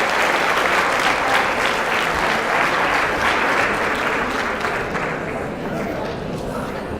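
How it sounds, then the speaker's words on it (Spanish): Enthusiastic applause from a crowd, dense clapping that holds steady and then eases slightly toward the end. "Un aplauso para la doctora"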